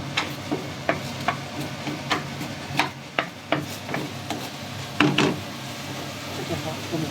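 Vegetables, including green peppers and carrots, frying in a pan for Cantonese sweet and sour pork, with a soft steady sizzle under repeated sharp clacks of a spatula stirring and scraping against the pan.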